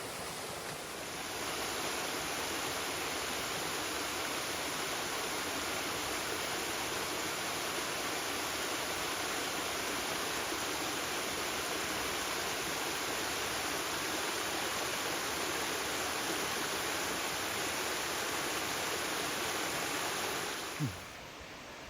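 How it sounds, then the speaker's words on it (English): Flowing stream water at a river crossing on a mountain trail thru-hike, a steady, loud broadband rush that holds constant for about twenty seconds with no talk over it. "We got a river crossing."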